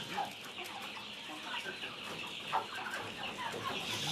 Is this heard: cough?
no